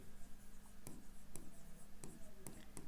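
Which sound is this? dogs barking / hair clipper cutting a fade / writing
writing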